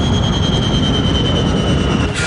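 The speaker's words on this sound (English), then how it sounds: "The passengers can hear the sound of the engines beginning to shut down" Jet engines of an airliner running down after a flame-out from fuel exhaustion, a loud, steady broadband roar with a faint high whine that holds throughout, close and continuous with no talk.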